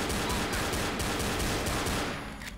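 Rapid automatic gunfire in the zombie shooter Left 4 Dead rattles in a loud, dense stream of regular shots, then thins out and fades near the end, with no speech over it.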